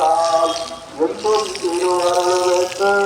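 Running tap water at a Venkateswara temple, where worshippers wash before entering, a steady close splash with tonal harmonics that wobble throughout.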